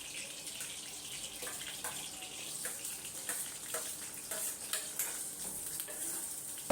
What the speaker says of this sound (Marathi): भाजी तर फोडणी देत आहे मी